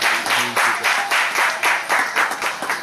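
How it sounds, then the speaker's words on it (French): Audience applause for a foundation president at a ceremony, loud rhythmic clapping in regular pulses, close and steady, with a brief voice underneath near the start. "Je veux nommer Borja Mbuké, que je vous prie d'applaudir fort."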